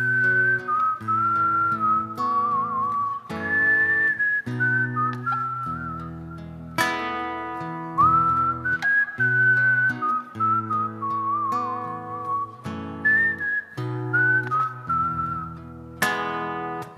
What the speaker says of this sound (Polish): Pogwizdajmy może trochę.